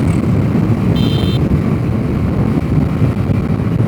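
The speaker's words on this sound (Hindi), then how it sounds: "पेट्रोल मोड में भी बाइक बहुत ज़्यादा स्मूथ चलती है।" A Bajaj Freedom 125 CNG motorcycle, a 125 cc bike, rides in petrol mode with a steady low engine drone and wind rush at the microphone, loud and continuous, with a brief higher tone partway through.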